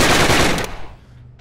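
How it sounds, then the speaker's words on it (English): A Tommy gun in the VR shooting game Gun Club VR fires one loud, rapid automatic burst lasting about half a second, then a decaying echo fades out. "check out my Tommy gun"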